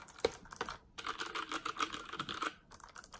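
Rapid typing on a thin Anidees portable mechanical keyboard with blue switches, crisp clicky keystrokes in quick close bursts with a brief pause between runs.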